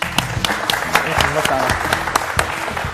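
A studio audience claps during a quiz show, distinct sharp hand claps in an uneven, moderately paced rhythm, fairly close, with low voices murmuring underneath.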